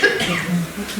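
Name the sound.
man coughing in audience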